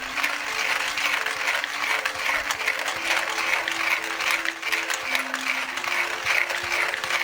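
A Porlex hand coffee grinder crushing coffee beans gives a continuous crunchy, ratcheting grind at close range, with a regular rhythm from the turning crank and no voices.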